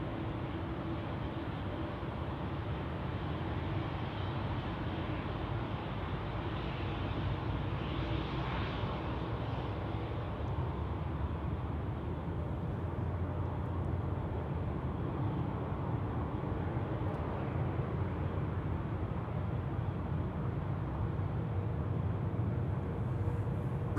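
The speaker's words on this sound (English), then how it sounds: "Air France up, and away" An Air France airliner taking off at Amsterdam Schiphol produces a steady, loud, broadband jet roar that holds for the whole stretch, with a slight swell partway through and no voices.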